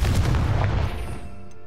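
A Confringo explosive curse cast in the video game Hogwarts Legacy: one loud booming blast that fades into a ringing tail over about a second.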